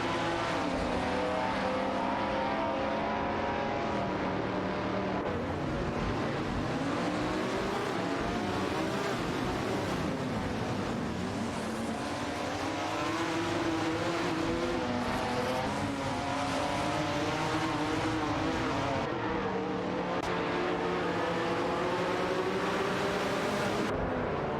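Engines roar steadily in a video game race between a 1969 Dodge Charger Hemi and a Ferrari 250 GTO, with several overlapping engine tones rising and falling as the cars accelerate.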